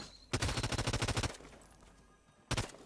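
Rapid burst of automatic gunfire in the video game Realm Royale, about a dozen quick shots in a row, then a pause and another short burst.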